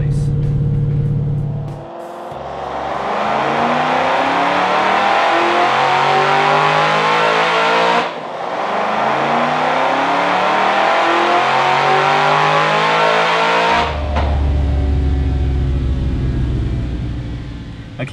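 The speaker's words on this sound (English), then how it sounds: "you saw me go really wide-eyed after that dyno pull" A Ford Shelby GT500 roars loudly on a dyno, revving hard and climbing steadily through a long pull, easing briefly around eight seconds before pulling again, then dropping back to a rumbling idle at the end.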